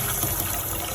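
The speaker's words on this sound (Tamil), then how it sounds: "ஒரு சின்ன பாத்திரம் எடுத்து பாத்திரத்தில் கொஞ்சம் தண்ணி விட்டு" Water poured into a small cooking pot while preparing spinach dumplings, a steady continuous gush of liquid heard close up for about a second, with no other sounds.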